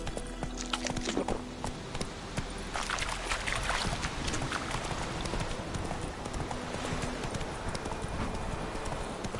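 Roach, a horse in The Witcher 3, gallops with steady, rhythmic hoofbeats clip-clopping close up throughout, no voices over them.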